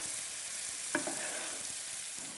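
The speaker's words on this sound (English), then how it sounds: "going to add half a glass of long grain rice. And stir that in." Long grain rice stirred in a hot frying pan, a steady broadband sizzle throughout with one sharp scrape of the spoon near the middle and softer stirring touches after, no voices.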